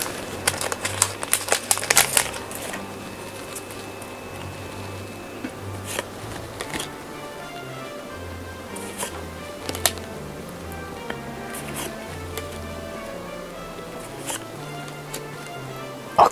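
Booster packs for the One Piece card game are opened, with wrapper crinkling and card-handling rustles and taps heard close and fairly quiet, busiest at the start, over a low steady background.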